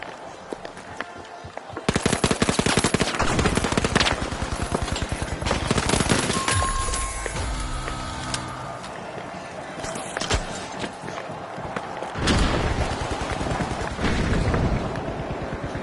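Video game combat fills the scene with dense bursts of automatic gunfire and rapid shots, broken by a heavy frag grenade blast, loud and continuous, with a voice talking over parts of it.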